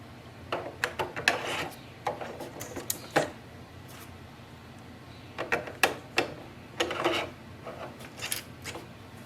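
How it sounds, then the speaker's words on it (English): Ink cartridge pushed into an HP OfficeJet Pro 9125e printer until it locks: a series of close, sharp plastic clicks and knocks in irregular bursts, separated by short quiet gaps. "You have to push it in and you hear a lock sound."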